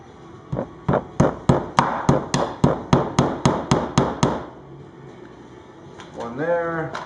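A hammer drives 1-inch finishing nails into a clamped guitar fretboard, about a dozen sharp, evenly spaced strikes close by in a steady rhythm, followed by a quiet pause and a brief voice at the end.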